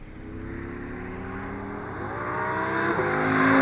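An Audi R8 RWS engine revs and accelerates hard, the steady loud drone climbing in pitch through gear changes and growing louder toward the end.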